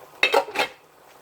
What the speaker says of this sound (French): je le mets dans la casserole.